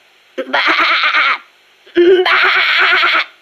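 A voice imitates a sheep bleating in two wavering, nasal bleats with a short pause between them, close and clear, in a Metal Gear Solid: Peace Walker briefing.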